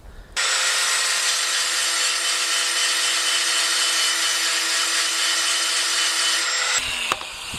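A power grinder cuts notches into the edge of a reaper sword blade, a steady, loud, continuous abrasive whine running unbroken for several seconds before cutting off abruptly near the end, with no talking.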